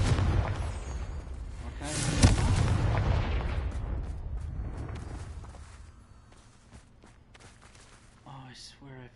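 A Confringo spell explosion in Hogwarts Legacy: a loud blast swells in and rumbles off over several seconds, with a sharper hit near the peak, then fades to quieter game sounds, while a player speaks briefly.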